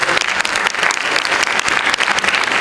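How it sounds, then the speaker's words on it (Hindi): Dense, loud applause from a large crowd at a Ganesh festival meditation programme, continuous clapping filling the room throughout. "वो भी एक बार जोरदार ताली बजाएं"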